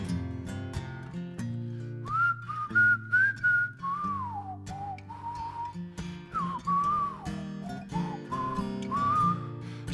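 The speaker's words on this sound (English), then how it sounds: "Is it okay to whistle on the radio in America?" A person whistling a melodic tune over a light guitar-like accompaniment in a live radio session, the wavering whistle line clear and close, with no talking.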